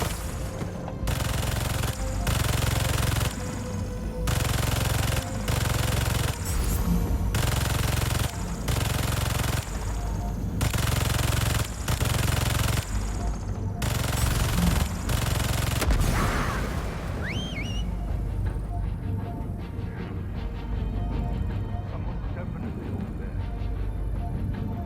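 Long bursts of rapid turret gunfire in the video game Spider-Man 2, loud and repeated in separate volleys with brief gaps, then giving way to quieter whooshing and rumbling game effects.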